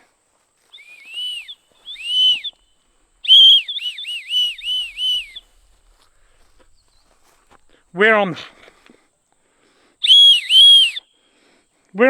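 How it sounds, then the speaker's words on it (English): Shrill little whistle blown in short repeated bursts, a few quick toots at a time with pauses between, fairly close, plus a brief voice. "And I think these were whistles."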